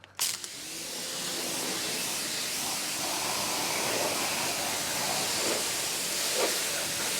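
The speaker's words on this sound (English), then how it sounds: "Looking at it with the 15-degree nozzle here," A Giraffe Tools pressure washer fitted with a 15-degree nozzle sprays in a loud, steady, continuous hiss. It starts after a brief click and knock at the start.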